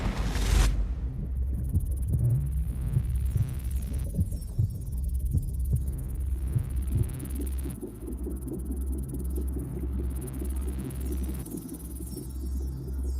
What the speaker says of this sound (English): these are kind of percussive and pulsing sound design elements